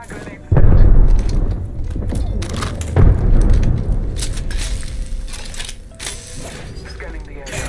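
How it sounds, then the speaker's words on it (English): Frag grenade explosion in Apex Legends, a heavy booming blast followed by rumbling debris, then a second deep thump, amid ongoing gunfire and game noise, with a voice speaking. "Throwing arc star. Frag grenade."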